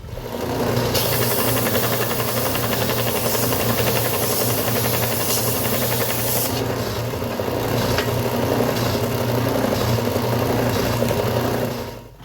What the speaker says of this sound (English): I have an oscillating belt sander.